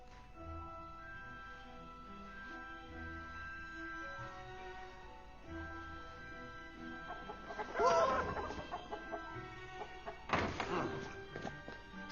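People imitate chickens with a mix of low clucks and bursts of squawking, set against soft background music, and a louder flurry of voices and thumps comes near the end.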